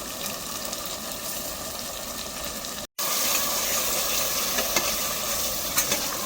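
Thick yogurt going into masala frying in a pan for Saira Sattani-style akhni pulao, with a steady broadband sizzle and stirring, a brief cut near the middle, then continued frying with small clinks.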